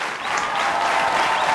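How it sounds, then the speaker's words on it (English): An audience at a live comedy event applauds steadily, a dense, even wash of clapping that swells slightly and holds near and loud throughout, with no voices over it. "give yourselves a big round of applause"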